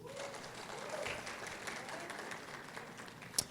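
A congregation claps for Lucas during a Sunday morning church service, a soft, diffuse patter of applause spreading through the room with one sharp click near the end.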